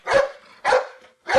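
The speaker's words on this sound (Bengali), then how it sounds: "কুকুর" Three sharp dog barks, close and loud, spaced about half a second apart, each with a brief trailing tail.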